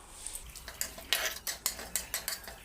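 A spoon scrapes and clinks against a pan, stirring dried red chilies, bay leaf, cardamom and cloves in hot oil. The quick metallic strokes come close and clear over a faint sizzle, with no voices.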